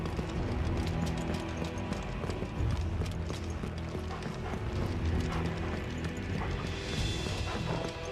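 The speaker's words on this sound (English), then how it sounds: "the sound changes when you're running on the blood of the footsteps" Footsteps running through blood in Final Fantasy XVI, a steady rhythm of wet, squelchy steps under a dense bed of game ambience and music.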